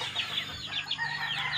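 Pet chickens with a rooster clucking close by in a morning farmyard, a run of short repeated bright calls over a steady low background hum.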